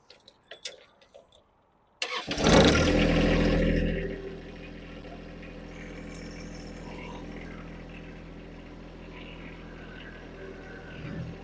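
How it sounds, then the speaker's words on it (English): A John Deere 1023E/1025R compact tractor engine cranks and catches with a loud burst, then settles into a steady mid-pitched idle that runs on close by to the end, preceded by a few faint clicks. "we're going to turn the tractor on and we're going to back it up in line"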